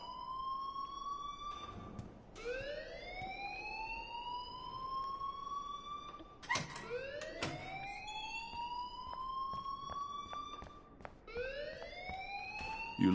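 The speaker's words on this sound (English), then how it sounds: "please turn off that alarm since that's your job" Alarm ringing in Life is Strange, a rising and falling siren-like wail that sweeps upward and holds, repeating in long cycles with brief gaps between them, steady and loud throughout with no talk.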